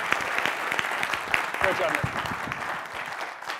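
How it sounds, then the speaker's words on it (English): A tech keynote crowd applauds steadily through the moment, with individual claps audible and a voice briefly speaking over the clapping partway through. "let's get an applause first"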